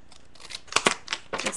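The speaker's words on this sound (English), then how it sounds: "I'm going to pull out my handy dandy Cutter Bee scissors" Cutter Bee scissors snipping through paper for a crafting project, a quick series of crisp close-up cuts and clicks with short gaps between them.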